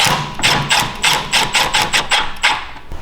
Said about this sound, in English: So we're going to snug up 1 bolt